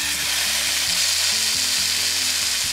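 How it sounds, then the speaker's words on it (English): A pound of ground beef fries over medium-high heat in a large high-sided skillet, giving a steady, loud, close sizzle with no pauses and no talking. "I'm just gonna add a pound of ground beef to this large skillet that has the high sides."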